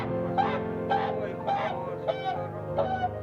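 A pet swan named Kesha, rescued from poachers, calls repeatedly to her owner at feeding time, giving a series of loud nasal honks and clucking notes, each about half a second apart, over steady background noise close by.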